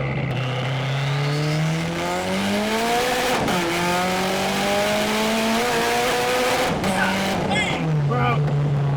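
A turbocharged Nissan 240SX S13 pulls hard with rising engine pitch, dropping sharply at clutchless gear shifts, loud and close from inside the car, with people talking over it.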